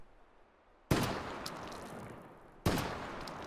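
Two loud, sharp blasts from an M1014 semi-automatic shotgun loaded with 00 buckshot, fired in a VR video game. The shots are almost two seconds apart, and each leaves a decaying, reverberant tail.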